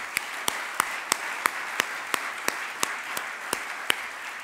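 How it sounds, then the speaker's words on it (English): Applause from the audience at the MWF East Africa Regional Conference, a moderate wash of clapping punctuated by sharp, evenly spaced claps in a steady rhythm, continuing at an even level throughout. "can we please have a round of applause for all the accomplishments that are here?"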